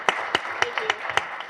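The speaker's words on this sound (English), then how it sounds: "I think that deserves a round of applause." A few people at a Burlington community safety public forum give brief, scattered applause, about seven distinct claps that sound fairly close in a quiet room.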